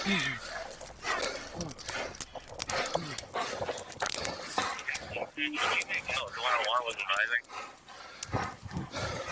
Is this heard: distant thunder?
no